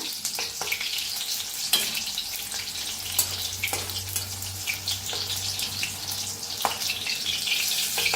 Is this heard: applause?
no